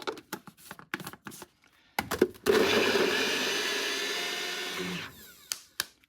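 Cheese slices blitzed in a blender to make fishing bait: a few clicks and knocks, then the motor whirs steadily for about three seconds at close range before it cuts off, followed by more handling clatter.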